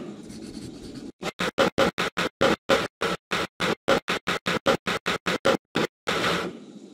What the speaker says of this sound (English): Use the saw to cut all the logs you will need for the cabin.